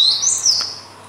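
A single clear, close call from a gelatik batu (cinereous tit), a bright whistled note that rises, then slides down, lasting under a second against quiet background.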